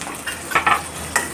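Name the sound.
frying onion in oil with mustard seeds and cumin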